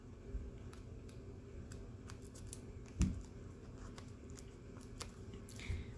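Scissors snipping through a sheet of paper while a paper model of a Panavia Tornado jet is being cut and folded, a few quiet crisp clicks, one firmer snip near the middle, over a low background hum.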